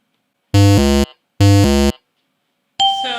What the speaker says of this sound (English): there is a noise, a sound of a bad hit if it's recognized by the program